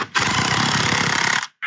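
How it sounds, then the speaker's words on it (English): Rapid, loud pneumatic-style hammering on a Toyota axle, a dense rattling burst lasting about a second and a half before cutting off, close and with no talk over it. "Maybe it'll be able to hammer up in there."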